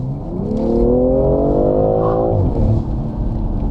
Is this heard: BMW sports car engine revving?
yes